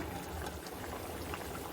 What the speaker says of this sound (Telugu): ఉడుకుతుందండి